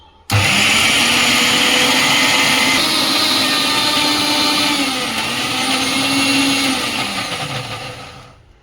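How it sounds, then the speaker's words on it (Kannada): A mixer grinder grinds dried red chilli coconut chutney with water: the motor starts abruptly and whirs loud and close for about eight seconds, its pitch shifting slightly as the paste churns, then winds down at the end. "ಸ್ವಲ್ಪ ನೀರು ಹಾಕಿ ರುಬ್ಕೊಳ್ಬೇಕು ಸಣ್ಣಕ್ಕೆ."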